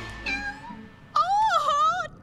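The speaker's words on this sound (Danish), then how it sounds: "Det er jo en lille killing." Cartoon kitten meowing, a short soft meow followed by a louder, longer rising-and-falling meow close up.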